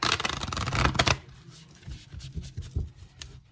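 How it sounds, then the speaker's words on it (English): A tarot deck is riffled and shuffled close by in a quick, dense flutter that gives way to softer scattered snaps and rustles of the cards. "One more shuffle. This is for my Aries."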